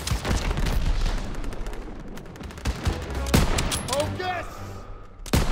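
Dense World War II battle gunfire from Call of Duty WWII, sustained bursts of rifle and machine-gun fire with sharp individual shots, under shouted voices and combat chatter.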